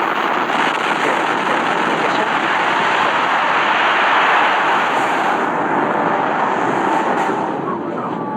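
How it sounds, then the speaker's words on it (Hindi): A continuous, loud, broadband roar rumbles steadily for several seconds as nine Merlin first-stage rocket engines ignite at night liftoff, heard from a distance. "T-3 सेकंड्स पर 9 Merlin engines first stage ignite होते हैं।"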